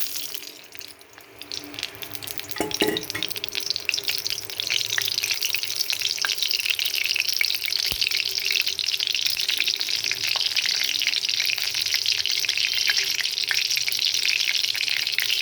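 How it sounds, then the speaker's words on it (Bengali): Oil heats in a hot kadai on a gas stove, giving a steady, close hiss that starts after a brief quieter moment and holds evenly to the end, with no talking. "কড়াইটা গরম হয়ে গেছে, তেল দিয়ে দিলাম।"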